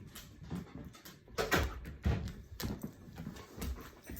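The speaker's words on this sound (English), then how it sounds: "I hear the little clip clops at my door. The little poodle footsteps." Small poodle's claws clicking on a hard floor near a door, a quick irregular series of light taps and scuffles, moderately close and fairly quiet.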